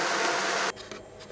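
CNC machine cutting a groove into a pencil, a dense whirring grind for most of a second that stops abruptly, leaving a faint hum.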